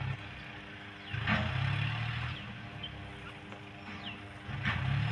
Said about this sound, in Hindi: वहाँ छोटा ट्रैक्टर है। खाली करने में ये क्योंकि गीला है तो ये दिक्कत आ रही है